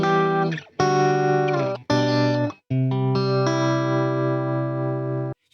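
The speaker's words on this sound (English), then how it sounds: "you can hear how bland the guitar sounds without the reverb on it" Dry electric guitar chords played in short strummed phrases, each cutting off sharply into near silence between them, loud and up close.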